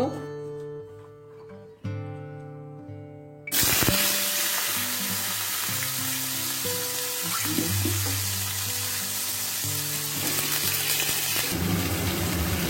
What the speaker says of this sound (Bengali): এখন ওই তেলের মধ্যে আমি বেগুনটা দিয়ে দেব